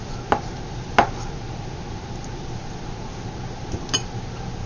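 A knife chopping shrimp into bite-sized pieces on a board gives a few sharp, sparse thuds spaced a second or more apart, over a faint steady background hum; no voices.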